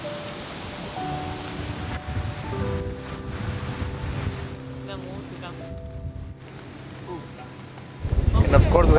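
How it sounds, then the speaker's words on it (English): Gusty wind blowing outdoors on a cold summer day in Bariloche, Argentina, a steady broadband rush with a stronger surge near the end, under faint background sounds. "today got windy"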